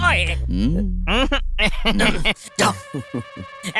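Mobile phone ringtone sounding in a room, a repeating electronic tune with short regular pulses that begins after a man's loud speech ends and continues on its own.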